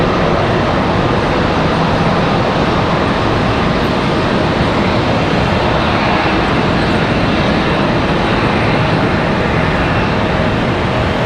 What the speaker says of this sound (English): Next arrival is going to be American Airlines 2127 coming in from Orlando, 1 hour, 11 minutes of flight time for another A321 arrival.